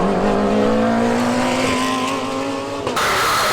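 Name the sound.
race cars driving on a tight circuit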